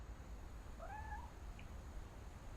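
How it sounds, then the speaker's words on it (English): A cat in What Remains of Edith Finch lets out a single faint, rising meow, distant and half buried in steady low background hiss. "I heard a cat"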